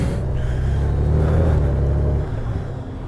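A 2020 Honda Goldwing motorcycle ridden in econ mode, its loud, steady engine drone mixed with wind, easing slightly toward the end, no talking.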